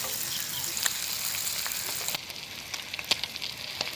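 Dried salted fish (karuvadu) coated in pepper sizzles steadily as it fries in a pan, a dense continuous crackle with sharper pops breaking through, and the frying eases slightly partway through.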